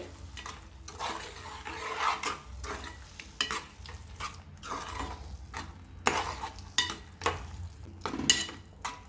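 A spatula stirs masala-coated raw mango curry in a pan, giving steady, repeated scraping and clinking over a soft sizzle, close and with no talk.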